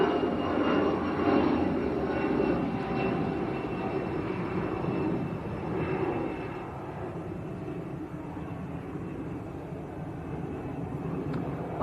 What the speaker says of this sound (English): Challenger 605